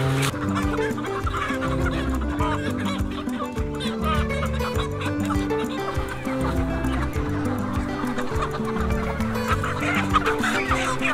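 Many free-range chickens, including roosters, cluck continuously and close by, a busy overlapping chorus of short rhythmic clucks.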